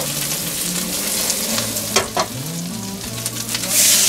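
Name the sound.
green onion bread rolls frying in a frying pan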